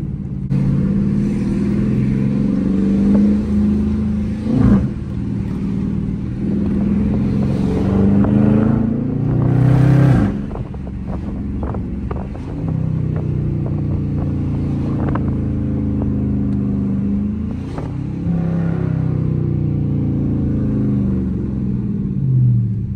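Dodge Charger RT engine revving hard while drifting, a sustained throaty rumble with repeated surges and throttle blips, close and loud across the whole stretch.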